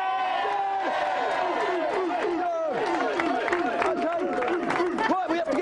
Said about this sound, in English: let's have a big cheer for the Dick Whittington team from Croydon